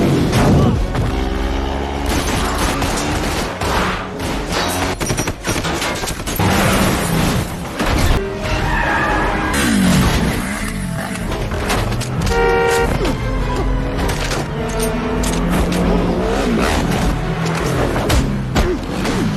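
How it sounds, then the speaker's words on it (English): Street chase with a motorbike weaving through traffic in an action film, cars honking amid loud engine roar, impacts and dense score throughout, continuous and busy at close range. "Nguo escapes on the motorbike, leading to a street chase"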